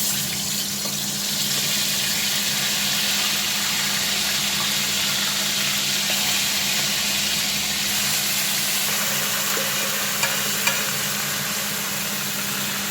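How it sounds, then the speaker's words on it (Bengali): Chicken pieces frying in white oil for butter chicken, a steady close sizzle with a constant low hum underneath, faint clinks near the end. "এবার চিকেনগুলোকে এখানে দিয়ে দিলাম ফ্রাই হওয়ার জন্য"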